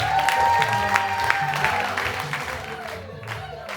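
A comedy club audience claps and cheers for a comedian amid background music, a moderate wash of applause with sharp individual claps that gradually fades, with a voice speaking over it.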